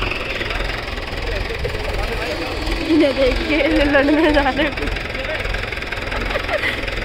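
A tractor engine chugs steadily while pulling a car stuck near the Ganga at Soron, a loud, continuous rumbling drone with a brief rise in effort midway, as people talk over it.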